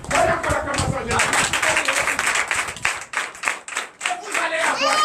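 A church congregation at a Sunday worship service in Comè, Benin, claps for Jesus in sustained, dense applause that fades and swells briefly, with voices mixed in among the crowd.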